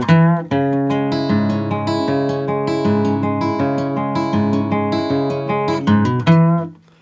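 A bright acoustic guitar with a capo is fingerpicked in a flowing intro pattern for a song, ringing notes and hammered bass steadily interwoven, close and fairly loud, ending on a sustained chord.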